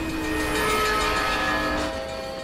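A train rushes past in the street racing video game Need for Speed: The Run, a loud continuous rumble with a tonal horn-like drone that swells and then eases off over a couple of seconds.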